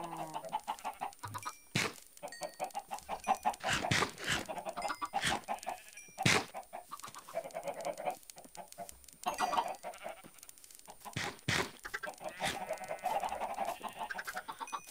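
Minecraft video game chickens clucking and squawking repeatedly, several birds close together, with occasional sharp clicks between calls and no talking.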